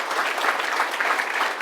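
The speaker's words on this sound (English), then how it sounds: "let's give a big round of applause for our judges" An audience claps loudly and continuously for the judges at a venture competition's final-round awards ceremony, a dense indoor burst of applause with no voices on top.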